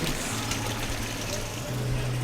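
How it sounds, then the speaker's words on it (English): A waterfall pours steadily in a hilltop park in San Francisco, a constant broadband rush, with a faint low hum running beneath it. "Waterfall."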